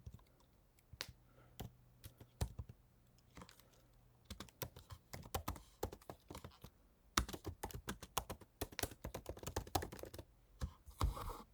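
Code is typed on a computer keyboard in sparse, then increasingly rapid bursts of crisp close key clicks, with pauses between runs and a faint steady hum beneath, no voices.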